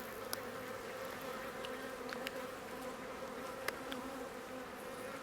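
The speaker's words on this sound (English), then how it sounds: "The bees are super happy. As you can tell, they're all over the veil and everything." Honey bees hum and buzz densely around an open hive, a steady close drone with individual bees zipping past the ear now and then, no talk over it.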